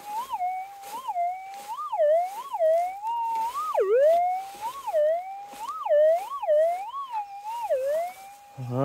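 A metal detector sounds off over a buried target on private property, giving a loud, close, wavering electronic tone that warbles up and down in repeated swoops, with a quick chirp right at the end.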